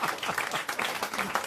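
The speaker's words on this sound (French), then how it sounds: "Et vous applaudissez" A French TV comedy show studio audience claps in a brisk, dense burst of applause, loud and steady for the whole moment.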